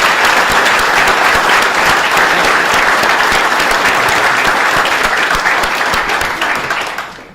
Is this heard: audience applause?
yes